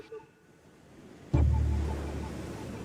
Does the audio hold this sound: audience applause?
no